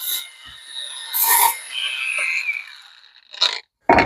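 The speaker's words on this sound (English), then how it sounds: "I'm just nicely and easily sanding the unit." Hand sanding rounds the edges of a wooden piece, close, dry rasping strokes that come and go irregularly with brief scratchy swipes and near-silent gaps.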